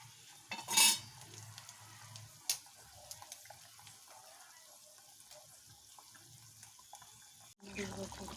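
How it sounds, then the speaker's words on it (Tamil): Spicy sardine fish curry made with a roasted, ground spice paste simmers quietly in a pot. Faint, soft bubbling runs throughout, with a few light clinks and stirring touches. "இப்போ மீன் வெந்துக்கிட்டு இருக்குது."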